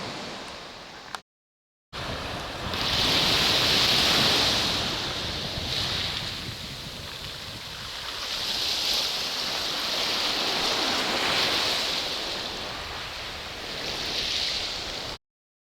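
Sea waves wash onto the stony beach at Torre Melissa in surges that rise and fall, breaking and hissing in repeated swells, with wind buffeting the microphone and no voices.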